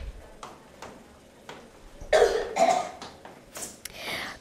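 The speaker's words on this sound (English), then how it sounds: "Cough in your elbow and keep away from other people." A few soft ticks lead into a cluster of several sharp, close coughs in quick succession, followed by a brief pause and more coughing.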